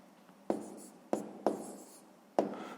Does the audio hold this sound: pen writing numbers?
yes